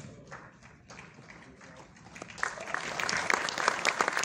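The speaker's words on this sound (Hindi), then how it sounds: "जोरदार तालियों का स्वागत।" Applause in a government secretariat auditorium starts faint and scattered, then swells into fuller clapping during the second half.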